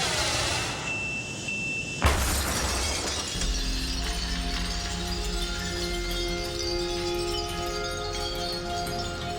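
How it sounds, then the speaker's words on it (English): A 2x4 fired from an air cannon smashes into a pane of normal glass, a sudden loud crash followed by a long spray of shattering, tinkling fragments, with mechanical background noise throughout. "This test shows what would happen to normal glass when subjected to typical hurricane debris."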